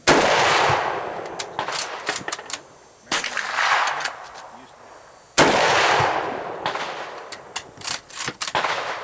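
A Mosin Nagant M91/30 rifle fires three loud, separate shots, each a sharp blast with a short ringing decay, spaced a few seconds apart outdoors.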